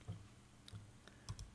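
Keys tapped on a computer keyboard while entering a value in photo-editing software, a few quiet scattered clicks in short bursts, close and faint with no talking.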